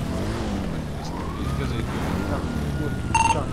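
Police sirens in the GTA V video game, wailing and growing stronger as they approach, mixed with car engine noise and heard under people talking.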